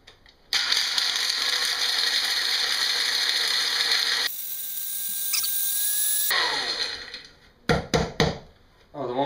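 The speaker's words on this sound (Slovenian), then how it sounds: "Prvo mandlje zmeljemo." Almonds are ground into powder in an electric grinder, giving a loud, steady mechanical whir that shifts pitch partway through, then stops and is followed by a few sharp clattering knocks.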